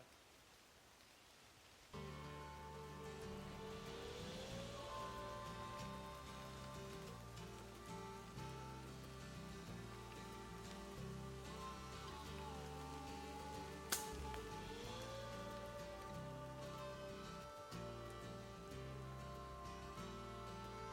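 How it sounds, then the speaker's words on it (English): Steady rain patters on a surface throughout, with a constant low hum running underneath and a brief sharp knock partway through. "The rain's getting pretty bad"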